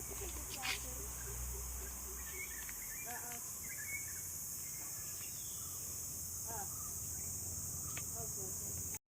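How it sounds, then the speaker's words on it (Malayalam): Dense, steady insect chirring, likely cicadas, fills the air over a cold hillside cardamom plantation in Idukki, Kerala, running unbroken throughout with faint voices and scattered outdoor sounds beneath it. "നല്ല ചീവീട് കരയുന്നുണ്ടോ ശരിക്കിന്."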